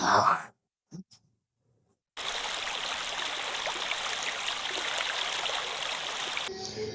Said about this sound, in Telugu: ఇది స్టార్టింగ్ వాటర్ ఫాల్స్ అన్నమాట.